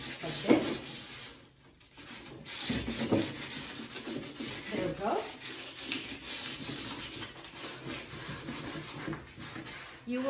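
Hand sanding of a wooden furniture piece with sandpaper produces repeated back-and-forth rubbing strokes, soft and close, in irregular bursts with brief pauses between passes.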